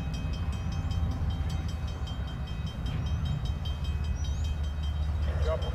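CN freight train L571 rumbles along at a steady, moderate distance near a rail diamond, a continuous low mechanical drone with faint metallic tones above it and no voices.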